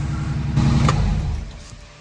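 A restored old car on its first test drive, a close mid-pitched engine rumble that swells briefly as it accelerates, then eases off and fades.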